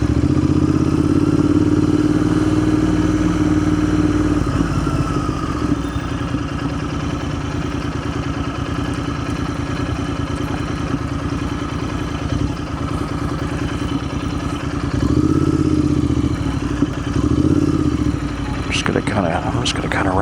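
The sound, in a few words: motorcycle riding through town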